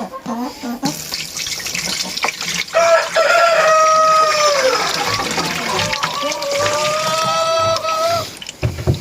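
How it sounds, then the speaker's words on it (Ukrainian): Chickens waiting to be fed cluck and a rooster crows in loud, drawn-out calls close by in a village yard, while running water splashes steadily underneath. "кури чекають на їду."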